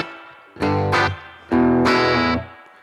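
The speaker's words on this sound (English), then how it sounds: "I've got a nice spring reverb" Electric guitar run through a BOSS GT-1000 spring reverb patch, playing two loud sustained chords with distorted, effects-laden tone and a short reverb tail between them, no talking.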